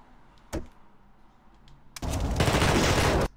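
Gunfire in the video game The Thing: a single sharp shot, then a dense, loud burst of rapid automatic fire lasting over a second.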